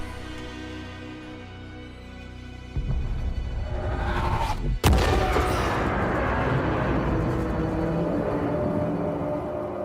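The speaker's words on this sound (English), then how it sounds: "when you do, the explosion wipes everything away" In the video game Still Wakes the Deep, a huge explosion erupts from a low ambient drone: a sharp crack, then a loud, sustained roaring wash of noise with no talk.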